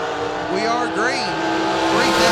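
Drag racing cars, including a yellow dragster, launch off the line at a drag strip, bringing sharp revving engine bursts and rising pitch sweeps under an announcer's voice on the loudspeaker.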